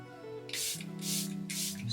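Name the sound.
setting spray sprayed on face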